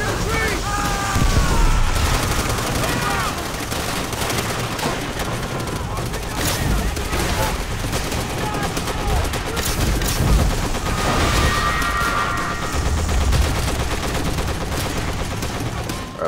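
A Thompson submachine gun fires in Call of Duty: World at War in dense bursts amid other battlefield gunfire and booms, loud and continuous throughout, with someone talking at times over it.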